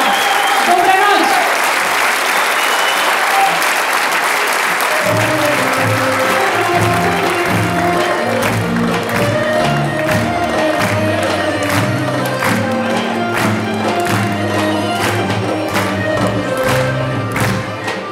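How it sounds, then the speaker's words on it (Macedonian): Audience applause at the 45th jubilee concert of folk ensemble KUD Kole Nedelkovski in Veles fills a hall for about five seconds, dense and loud, before music takes over while clapping carries on beneath it. "Многу аплаузи за Конане Билковски."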